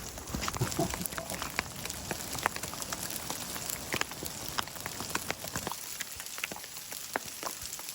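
Hail falling steadily along a trail in Yellowstone National Park near the Yellowstone River, a dense, continuous patter of sharp little ticks and clicks, slightly thinning toward the end.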